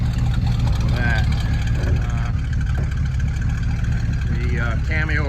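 A hydraulic drive winch on a GMC square-body truck drags an old Hyster fork truck out of soft sand; a steady, loud engine drone runs throughout, with a voice heard over it.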